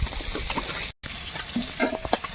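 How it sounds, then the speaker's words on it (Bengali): Rohu fish fries in hot oil in a pan, giving a steady close sizzle with occasional crackles and spatters. A brief silent gap interrupts it partway through. "মাছটা ভাজা হয়ে গেছে উঠিয়ে নেব"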